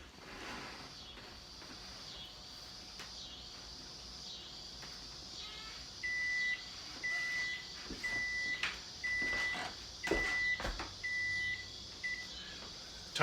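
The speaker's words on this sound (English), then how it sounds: "Timer's gone off." Kitchen timer beeping while a chicken roasts in a high-temperature oven, a series of short, evenly spaced electronic beeps over a low background hum and faint kitchen clatter.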